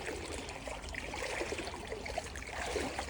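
River water flows through a narrowed channel, a steady close babble and trickle with no voices over it.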